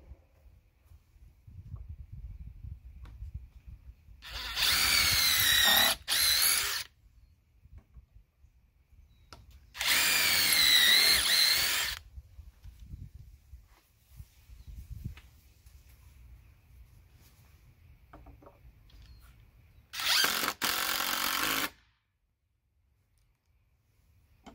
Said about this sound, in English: That way it'll stay in place when I drill these other holes.